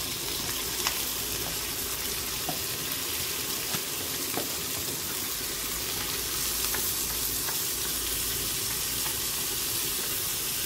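Garlic frying in a pan on a wood-fired stove, a steady close sizzle with scattered pops and crackles running continuously for about ten seconds, no voices.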